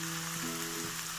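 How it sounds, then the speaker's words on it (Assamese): Small fish rubbed with salt and turmeric frying in hot oil, a soft steady sizzle with faint crackling, quiet and brief with a low hum beneath. "এনেদৰে অলপ তেলখিনি ভালদৰে গৰম হ'লে নিমখ হালধি সানা মাছখিনি"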